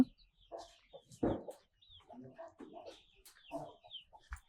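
Free-range native chickens on a farm of a few hundred birds, clucking in scattered short bursts at close range, mixed with faint farmyard movement.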